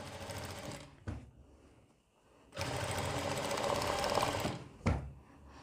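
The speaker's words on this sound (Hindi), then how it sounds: "यहाँ पर हम सिलाई लगाएंगे दूसरी तरफ जिससे कि फिनिशिंग में बैठ जाएँ" A sewing machine stitches lace onto a neck design made with foam buttons, running in two close bursts of fast whirring with a quiet pause and brief clicks between them, and nobody speaking.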